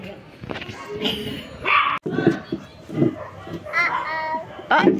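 Dogs bark and snarl in a scuffle nearby, yips and growls in bursts while someone talks over the noise.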